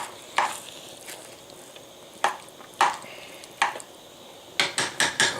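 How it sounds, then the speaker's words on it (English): Melted cheese being mixed into baked macaroni in a pot, with a spoon knocking and scraping in scattered strokes and a quick cluster of clinks near the end, close and unaccompanied by speech. "I'm going to let that melt and then just mix it all together."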